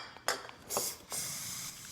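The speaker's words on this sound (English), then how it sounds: "We got some starter in a can here, so let's spray some of that in there and try it again." An aerosol can of starting fluid is sprayed into an ATV engine in three short hissing bursts, the last one held longer, close and fairly faint with no talking.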